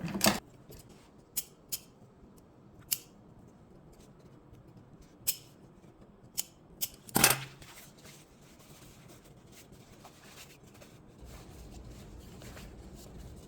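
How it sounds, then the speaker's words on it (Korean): Scissors snip notches into fabric for a hoodie: a handful of sharp, isolated cuts spaced irregularly over a quiet room background, close and crisp, with no talking. "여기가 지금 가위밥을 줘야 돼요."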